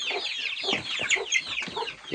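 Chickens cluck and chatter in a coop in a busy, overlapping stream of short calls, close and continuous, with a few higher squawks mixed in.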